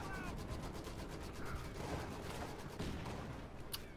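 Continuous rapid machine gun fire in the World War II strategy game Company of Heroes 2, a dense battle din of overlapping shots with small explosions mixed in.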